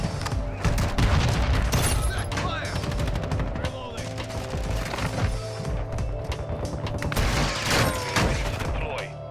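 Sustained gunfire in Call of Duty: Modern Warfare II multiplayer, dense bursts of automatic weapon shots and booms running loud and continuous throughout, with game voices under the shooting.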